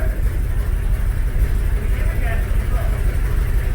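A 1996 Jeep Grand Cherokee idles after a warm start, an engine with idle and throttle-response trouble. It makes a steady, close, low rumble that holds even throughout with no revving.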